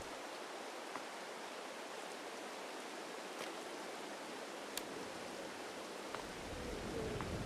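Steady rain falls in Farming Simulator 22 around a tractor chosen for its better lighting, a constant hiss from start to finish with a few faint clicks and a slightly fuller rush near the end.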